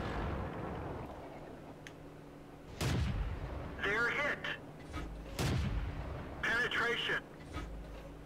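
Churchill I tank main gun firing in a video game, two heavy booming shots a few seconds apart, each followed by clanking and ringing hit effects, over a low engine rumble with someone talking.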